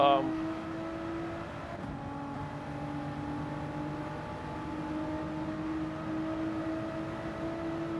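A Toyota Supra races in Gran Turismo 7, its engine a sustained, steady tone at high revs through a daily online race, with a brief gear-shift dip near the start.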